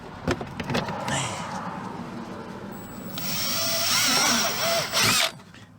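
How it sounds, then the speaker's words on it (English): A power drill whirs for a couple of seconds amid handling clatter and tapping, close by, then stops abruptly. "I propose we drill here."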